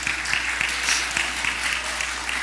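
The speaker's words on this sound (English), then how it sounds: "I would like for you to give her a round of applause" A church audience at a Sunday service applauds steadily, a dense, even spread of many hands clapping at moderate volume, heard alone without talk.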